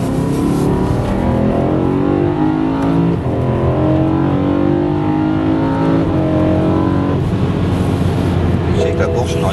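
A BMW M3 accelerates along a snowy race circuit straight, its engine droning loud and rising in pitch as it gains speed, heard from inside the car with people talking over it.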